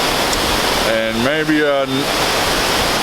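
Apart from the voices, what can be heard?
waterfall, water slamming into rocks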